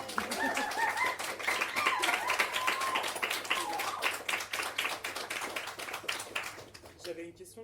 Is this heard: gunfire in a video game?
no